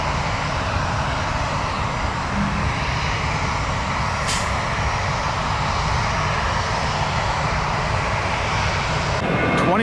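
FedEx jet departing Tampa airport, a loud continuous engine roar filling the whole stretch at close range, steady and unbroken with no talk over it.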